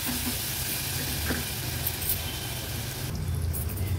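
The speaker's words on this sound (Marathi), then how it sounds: "आता हे जे वाटण आपण वाटून घेतलं ना, हे तेलावर थोडंसं परतून घ्यायचंय" Coarse ground masala paste sizzling as it fries in oil for a Surmai fish thali, a steady soft hiss with faint crackles and light stirring scrapes, close and quiet, no talk.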